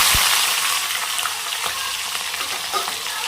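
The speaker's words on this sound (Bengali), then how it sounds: "তো এটা একটুখানি ফ্রাই হবে, তারপরে আমি পেঁয়াজগুলো দিয়ে দেব।" Onions frying in a hot pan make a loud, dense sizzle that begins strongly and settles into a steady crackle, with light stirring scrapes heard up close.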